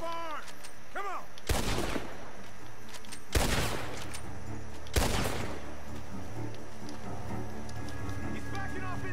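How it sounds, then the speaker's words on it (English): Three loud gunshots ring out from a barn in the video game Red Dead Redemption 2, spaced a couple of seconds apart over steady in-game background sound. "shots are coming from that barn"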